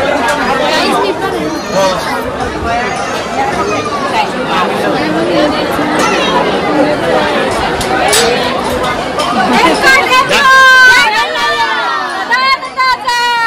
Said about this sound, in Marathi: काय जेजुरीला पण खूपच गर्दी आहे.